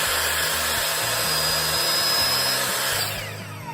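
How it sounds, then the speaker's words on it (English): Power sanding of small wooden dowel posts for a jewelry stand: a steady, loud whirring motor noise runs throughout with a broad gritty hiss, tapering slightly near the end, with no talking. "so I'm just sanding them now"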